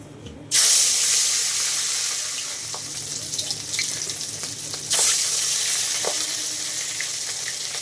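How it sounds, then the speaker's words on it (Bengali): Rohu fish pieces coated in turmeric and salt sizzle and fry in hot oil in a wok, a steady loud crackle that surges twice as pieces are moved or stirred, with faint water or utensil sounds beneath. "দেখো মাছগুলো ভাজা হয়ে গেছে, তুলে নিচ্ছি"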